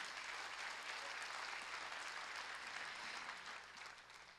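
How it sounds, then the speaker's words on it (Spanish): A church congregation applauds at a sermon, a broad steady wash of many hands clapping heard from a distance, holding level and then thinning slightly toward the end. "Fuerte el aplauso, está bien."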